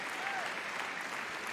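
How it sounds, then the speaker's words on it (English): Crowd applauding at the Crufts dog show for an Old English sheepdog, a dense, steady wash of clapping from a large audience, with a faint voice over the top. "Big round of applause from the crowd for this lovely Old English sheepdog."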